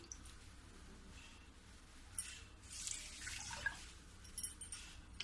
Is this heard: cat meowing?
no